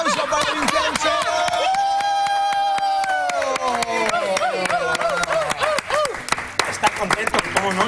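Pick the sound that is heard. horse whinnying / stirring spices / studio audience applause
studio audience applause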